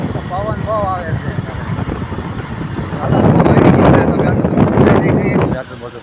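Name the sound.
strong wind blowing outdoors as rain begins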